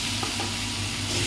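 Tomato and spice paste fries in a pan while being stirred, a close continuous sizzle broken by a few soft scraping strokes, with no talk.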